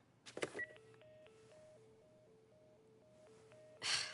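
Telephone keypad tones from a dead phone in The Last of Us remake video game: a quiet run of short alternating beeps in a steady rhythm, with a breathy sound just before and a rustle at the end.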